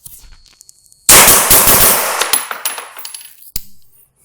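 A suppressed direct gas rifle fires a fast string of loud, sharp reports over about two and a half seconds, each shot trailed by metallic clatter, then one final separate shot.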